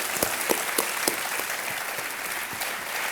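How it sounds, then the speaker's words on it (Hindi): Studio audience applause on the KBC television game show, a sustained, even burst of many hands clapping together after a contestant's win, filling the whole stretch at steady loudness. "तालियों के साथ इनका अभिनंदन"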